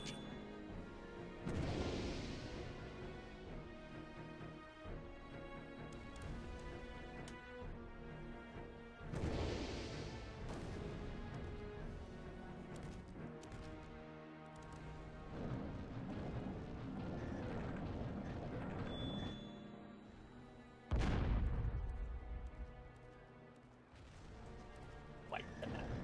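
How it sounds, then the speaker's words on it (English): In the mech combat game Chromehounds, a building is destroyed by an explosion: low rumbling blasts and crashing impacts recur at intervals over a steady mechanical drone, faint overall, with a sharp boom near the end. "Destroy the building, and they'll all be taken out by the explosion."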